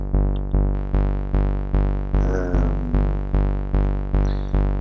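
Raw hardstyle kick drum with a filter applied, hitting in a steady even pulse of about ten heavy distorted thumps, each with a long tonal tail, loud and alone with no voices.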